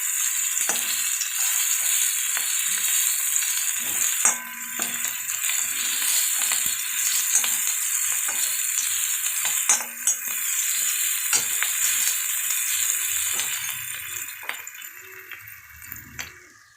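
Onions frying for a bitter gourd curry sizzle in a steady hiss, with occasional stirring clinks and rattles from the pan throughout, close and fairly loud.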